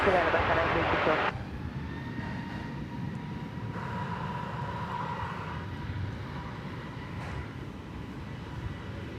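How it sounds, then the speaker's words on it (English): American Airlines Airbus A321neo taking off at DFW Airport, a distant steady jet roar that rumbles on under background speech, with a louder burst at the start before settling into a sustained engine drone. "There you see American Flight 2318. It's going to Los Angeles. It's an Airbus A321 Neo."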